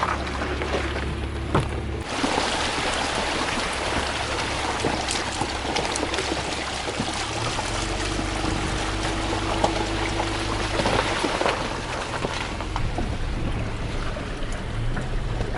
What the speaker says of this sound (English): This water is way too deep.